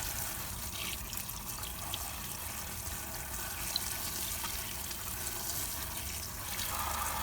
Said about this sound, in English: Rinse carefully under running water, since the tightly layered leaves often hide dirt, insect eggs, and even pesticide residue.